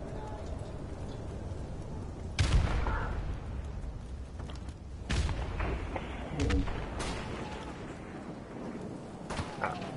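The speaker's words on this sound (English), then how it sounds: "I heard a gunshot." Gunshots crack out in a noisy setting, a few loud isolated bangs spread over several seconds amid constant background rumble and voices.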